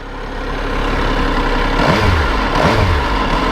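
A 2022 MV Agusta F3 800RR sportbike engine runs loud and close, a dense steady roar with a couple of brief rising revs near the end.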